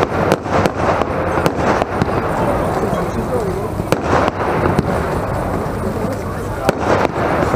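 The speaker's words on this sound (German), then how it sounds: "Die Statement ist ein 60 Schuss, verbunden mit verschiedenen Bouquets." A Vuurwerk Totaal Statement 60-shot firework battery with bouquet effects fires outdoors, giving loud repeated launch thumps and crackling bursts in an irregular rhythm while people talk nearby.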